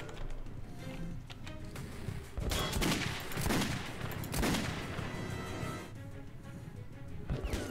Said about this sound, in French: J'ai un silencieux sur mon fusil d'assaut.